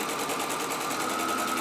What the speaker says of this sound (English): I'm going to sew the other side exactly the same way that I did the first side